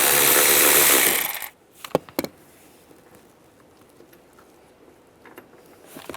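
A power tool backs a bolt out on a 2007-2013 Chevrolet Silverado during EVAP core work, giving a loud whirring burst up front, then a few sharp clicks and faint tool noises in a quiet cab.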